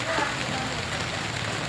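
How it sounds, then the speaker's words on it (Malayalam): Heavy rain falling outside, a dense, even hiss of downpour that fills the whole short moment, steady and fairly close with no individual drops standing out. "പുറത്ത് നല്ല മഴയാണ്."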